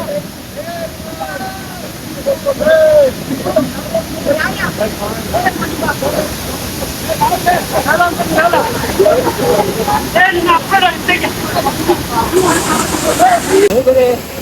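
Kannegundi (Gandhi) waterfall near Bhatkal gives a steady hissing rush of falling water, loud and continuous beneath people talking throughout.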